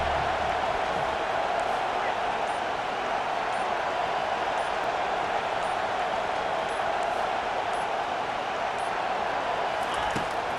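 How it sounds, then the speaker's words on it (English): A football stadium crowd at a Wake Forest at Florida State game roars steadily and loudly throughout, a dense sustained wash of cheering under an announcer calling the play. "this crowd trying to help keep them there"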